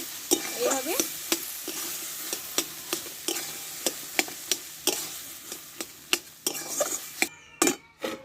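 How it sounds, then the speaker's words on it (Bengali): Boiled pumpkin is mashed in a pot with a rapid run of sharp, regular knocks and scrapes of a utensil against the metal, fairly close and moderately loud. "এটা আমি ভালো করে আমি ঘুটে নেবো"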